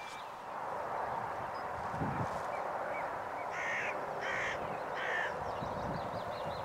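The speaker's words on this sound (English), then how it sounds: "we see the first hooded crow take an interest in my decoy setup." Hooded crows caw three times in spaced, moderately near calls over steady wind noise in open countryside during a decoy hunt.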